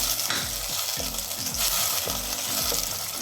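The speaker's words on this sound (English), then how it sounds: "I'm gonna stir it at medium heat, alright?" Curry leaves stirred in hot oil at medium heat for a Malaysian curry mee laksa base: close, steady sizzling broken by repeated scraping strokes of the stirring utensil, with no talk.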